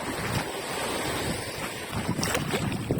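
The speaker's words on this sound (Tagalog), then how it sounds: "May hangin." Wind blows across open sea water during a shore fishing outing, a rough gusty rush mixed with low wave wash and buffeting on the microphone, continuous and fairly close.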